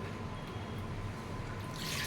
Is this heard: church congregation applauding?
no